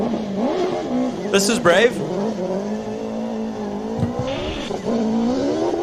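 A Hayabusa-engined Radical race car launches off the line at a hillclimb event, its engine revving hard in rising, wavering pitches and briefly flaring loud, while a commentator talks over it throughout.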